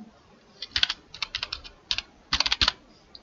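Java code typed on a computer keyboard: close, crisp keystrokes in quick irregular bursts with short pauses between them, and no voices.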